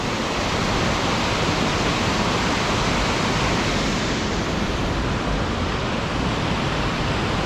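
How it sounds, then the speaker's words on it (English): A waterfall on the Middle Fork Snoqualmie River roars loud and close, a dense, unbroken rush of water that stays constant throughout. "That waterfall."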